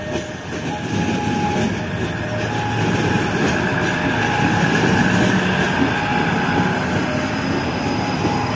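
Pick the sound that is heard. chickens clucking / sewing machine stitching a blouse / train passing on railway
train passing on railway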